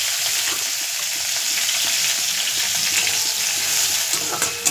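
Ingredients for ghugni, including boiled peas, fry in a pan over a high gas flame, giving a steady, loud, close sizzle that runs unbroken with no voices.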